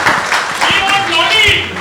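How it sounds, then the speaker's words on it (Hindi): An audience applauds for director Siddharth Anand at a Pathaan media event with Shah Rukh Khan. Dense, steady clapping fills the short moment, mixed with voices and some music. "एक बार जोरदार ताली चाहिए सिद्धार्थ के लिए."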